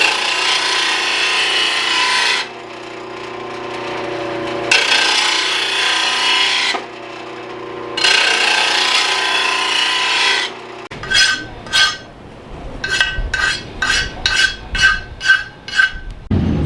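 Lawn mower blades for Scag V-Ride and Gravely mowers are sharpened: three loud bursts of power-tool grinding give way to a quick run of about ten sharp, rhythmic rasping strokes, close up with no talk.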